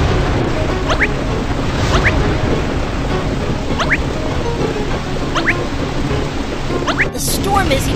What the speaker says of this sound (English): The storm is even stronger!